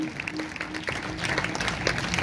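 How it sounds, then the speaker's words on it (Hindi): A congregation at a Hindi-language church ministry service breaks into applause, a short burst of dense clapping that swells slightly toward the end, with faint voices mixed in. "जोरदार तालियां बजाएंगे"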